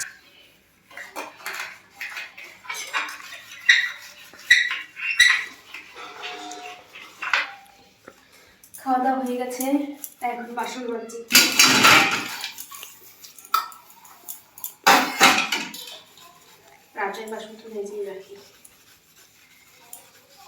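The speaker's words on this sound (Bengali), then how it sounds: "এখন আমরা বাসন মাজছি" Dishes, pots and pans are washed by hand, with repeated clattering of metal and cutlery in uneven bursts, scraping and rubbing between them, close and fairly loud, and some talk in between.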